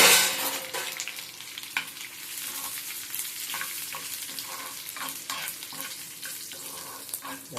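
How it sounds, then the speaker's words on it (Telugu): Lentils and dried red chillies frying in a pan for a ground chutney, a continuous close sizzle broken by repeated scraping stirs, with no talking. "ఇదిగో పప్పులు వేగాయి కదా, ఎండుమిరపకాయలు వేగాయి కదా"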